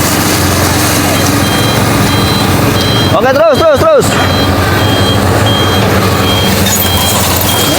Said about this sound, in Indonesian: Ini dump truk mundur.